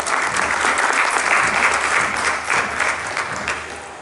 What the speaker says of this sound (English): So I think we all have a big round of applause for that as well.